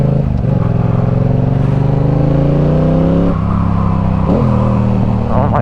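A Yamaha R7 motorcycle engine pulling hard through the gears, a loud close rising growl with a brief dip at each upshift, engine alone with no talking.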